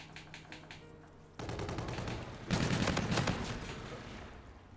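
Rapid automatic gunfire in Call of Duty: Infinite Warfare, loud sustained bursts that kick in abruptly and intensify partway through, with a few quieter shots beforehand and no talking over it.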